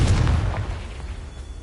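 Confringo fire spell in Hogwarts Legacy bursting in a single loud, close blast, a heavy low boom that decays quickly over a second and a half with no voices.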